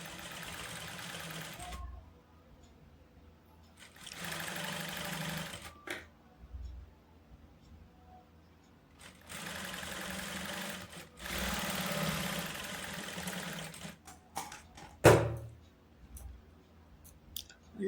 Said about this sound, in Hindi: तो मैंने इस पर अच्छे से सिलाई लगाना शुरू कर लिया है।